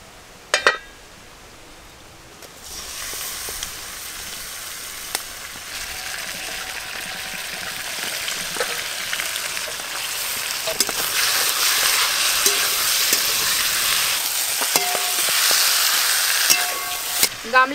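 Spiced cauliflower drops into a hot pan with ginger and green chilli and sizzles loudly and steadily, with occasional stirring clinks and scrapes, close up and with no talk.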